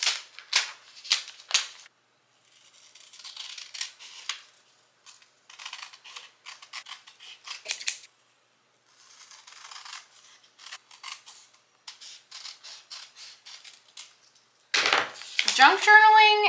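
Scissors snip through paper for a junk journal in quick, close, crisp cuts, grouped in short bursts with pauses between them, ending with a louder rustle of paper being handled.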